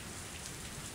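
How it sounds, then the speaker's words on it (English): Steady rain falls in the visual novel game Higurashi When They Cry Hou, a dense, even hiss of drops on a surface with no other sounds. "Only the sound of rain filled this tense moment."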